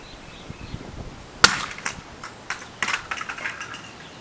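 An alarm clock is being smashed apart: one sharp, loud crack followed by a run of lighter plastic clacks and rattling debris at close range, with no talk.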